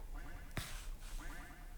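Electronic, robotic-sounding quacks from a robot duck in a Roblox game repeat in short bursts over a noisy game soundtrack, with a sharp burst partway through.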